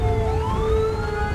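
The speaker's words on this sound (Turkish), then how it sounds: "Ay bu siren sesi ne?" A steady electronic siren in GTA 5 wails continuously, rising slightly in pitch, loud and sustained over a low engine rumble.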